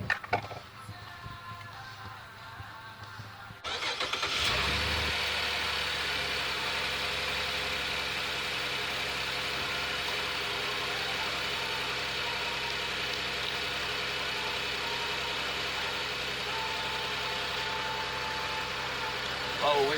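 A 2013 Cadillac SRX with a 3.6-liter engine starts after an oil change and settles into a steady, even idle, with a loud, constant running hum that continues to the end.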